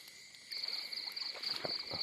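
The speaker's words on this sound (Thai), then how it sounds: "กบปักหลักมาแล้ว" Frog croaking at night beside a set fishing hook in a rice-field frog-fishing setting, a repeated croak cutting through a steady high insect drone, fairly close and moderately loud.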